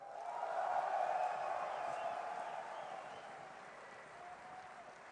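A live crowd at a DreamHack StarCraft 2 grand final applauds and cheers steadily, a dense wash of clapping that swells early and slowly fades, heard from a distance.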